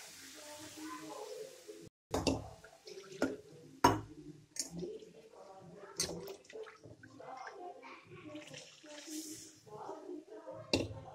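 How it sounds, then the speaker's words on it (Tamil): Cooked dal is poured into sambar in a pot, giving irregular wet splashes and glugs, loudest near the start and middle, with quiet gaps between pours. "பருப்பு எடுத்து ஊற்றிக்கோங்க."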